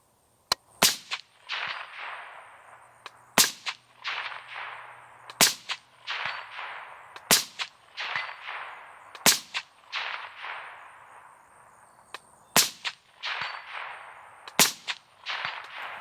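Rifle with an HM Defense StealthMS5 integral suppressor fires about eight evenly spaced shots, each a sharp, close crack followed by a short echoing tail across an open hillside toward targets at 200 yards, with no talking.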